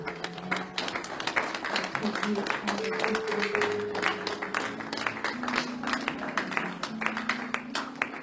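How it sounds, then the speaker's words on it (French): A church congregation claps along steadily, with many hands making a dense, rhythmic patter while voices talk and sing over the top throughout. "Acclamons ensemble le Seigneur."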